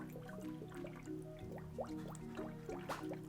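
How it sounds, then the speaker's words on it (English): Water being poured into the reservoir of an all-AMD custom-loop gaming PC, with soft dripping and trickling and a few splashy bubbling gurgles over a steady hum of background music. "More water into the res."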